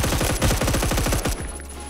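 Rapid automatic gunfire rattles in Roblox Phantom Forces, a fast burst of about a dozen sharp shots in even rhythm, loud and close, cutting off abruptly near the end.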